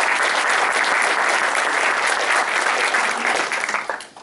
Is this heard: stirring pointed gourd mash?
no